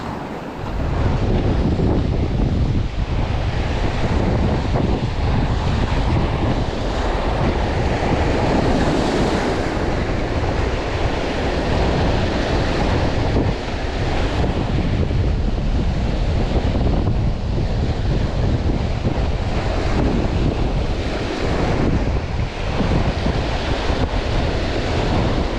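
Strong wind roars and buffets the microphone continuously, a dense, loud rush with surf-like surges and no talking.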